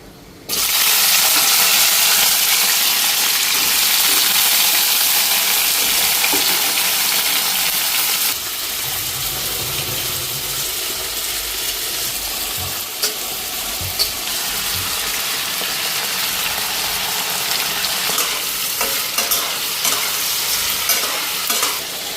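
Black cumin and vegetables hitting hot oil in a wok, a loud hissing sizzle that bursts in sharply, then settles to a slightly quieter, steady crackling fry, with no voices.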